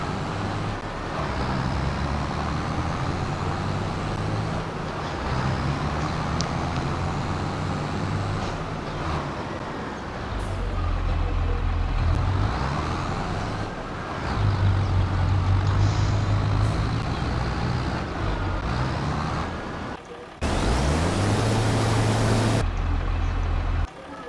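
A tractor engine in Farming Simulator 25 drones steadily with a low rumble, rising and falling as it revs, then a short hissing burst near the end, continuous and close with no talk.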